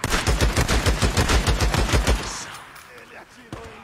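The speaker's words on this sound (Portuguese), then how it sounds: "Ele atirou em mim!" Rapid bursts of automatic gunfire from a zombie apocalypse video game, a loud steady string of shots for about two seconds, then a quieter stretch with a single sharp shot near the end.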